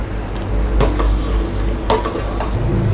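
Sugar syrup with lemon is stirred in a pan for badusha, a spoon scraping and clinking against the metal a few times over a low, steady simmer.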